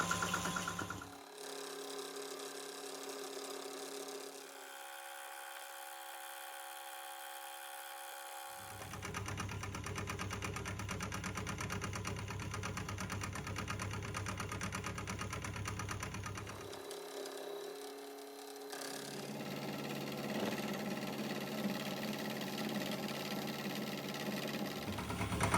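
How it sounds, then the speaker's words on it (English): A milling cutter slowly taking a full-width cut into a cam gear blank for an oddball six-cycle engine, a steady mechanical grinding whine in several sustained stretches with brief pauses between passes, close and fairly loud with no talking. "You have to go really slow at the end because it's cutting full width with the cutter"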